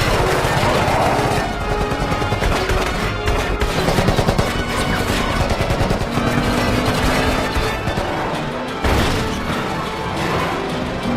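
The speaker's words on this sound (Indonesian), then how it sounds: "John diberondong habis oleh mereka." Sustained bursts of rapid gunfire and crashing impacts in an action film, loud and dense throughout with a brief break near the end.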